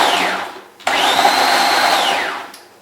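A kitchen appliance blade grates apples for strawberry jam in two loud whirring runs, the motor pitch rising and falling, with a brief stop between them and a fresh start at the end.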